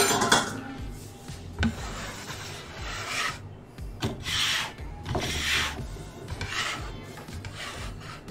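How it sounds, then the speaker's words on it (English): A bench scraper drags across a wooden cutting board in a series of rough, rasping strokes, close up and loud, separated by short pauses, with no talking. "We get the cutting board cleaned up a little bit here."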